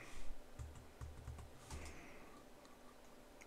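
A short burst of quiet keyboard typing, several quick key clicks in a row followed by a couple of isolated taps, with no talking.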